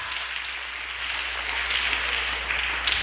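Steady, even wash of clapping from a church congregation during a midweek sermon, moderately loud and sustained without a break, with no speech over it.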